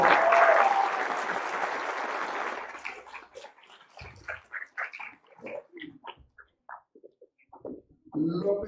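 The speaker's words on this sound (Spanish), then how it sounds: "un fuerte aplauso" Applause at a professional degree ceremony of the Instituto Politécnico Nacional swells loudly for a few seconds, then breaks into scattered, fading claps with brief voices afterward.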